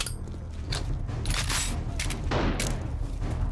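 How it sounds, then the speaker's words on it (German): Hand grenades exploding in the survival game 7 Days to Die: several dull, booming blasts in quick succession with crackling debris, loud and fairly close, no voices. "jetzt habe ich zwei Handgranaten geworfen"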